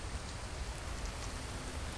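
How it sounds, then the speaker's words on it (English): Steady rain pours throughout a dark survival scene in the zombie game The Infected, a dense, even hiss of drops hitting surfaces with no voices. "And now it's raining."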